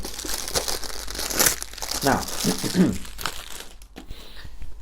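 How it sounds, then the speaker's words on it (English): Perfume sample packaging rustles and crinkles up close in sharp, irregular bursts, with a voice speaking briefly over the crackling. "Let's get the noisy rustling out of the way quickly."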